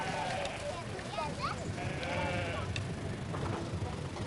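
A herd of goats returning in small scattered groups to a misty mountain herders' camp, with faint bleats rising over a dense outdoor murmur while a voice narrates throughout.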